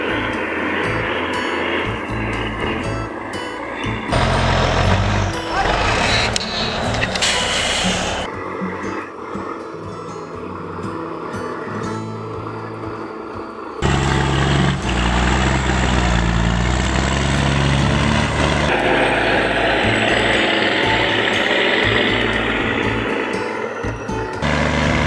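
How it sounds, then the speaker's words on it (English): The FH-20R stump pulling machine's heavy engine runs loud and steady, its roar shifting in intensity as the machine works. "The FH-20R is a specialized stump pulling machine."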